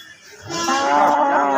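A cow moos once, loud and close, a long drawn-out low call that swells and holds to the end.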